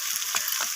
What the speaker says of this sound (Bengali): এখানে আদা বাটাটা দিয়ে আমি মশলার সাথে মিশিয়ে নিয়ে নাড়িয়ে চাড়িয়ে নিলাম